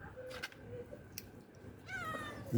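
Cats meowing while squabbling over food outdoors, fairly faint, with a couple of short meows and a longer rising caterwaul near the end.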